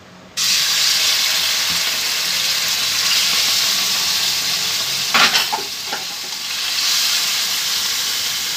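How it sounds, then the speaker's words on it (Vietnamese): Marinated beef stir-fried with bean sprouts sizzles loudly in a hot pan, a steady hiss starting abruptly as the meat goes in, with a few scraping stirs midway. "Mình bỏ vô mình xào."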